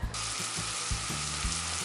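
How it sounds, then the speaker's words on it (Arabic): Ginger and garlic frying in sesame oil thinned with a little corn oil, a loud, steady close-up sizzle with soft stirring knocks underneath and no voices. "أول شي بديت حطيت الزنجبيل وحطيت الثوم على زيت السمسم"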